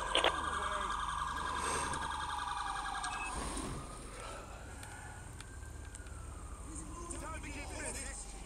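A police car siren in the LSPDFR video game wails loudly with a pulsing, warbling tone that steadies into a long, slow rising and falling wail before it winds down.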